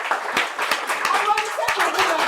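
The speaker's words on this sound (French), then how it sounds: "Applaudissez pour vous-même." Students at a school assembly clap their hands in a dense, fast patter of applause, fairly close and steady throughout.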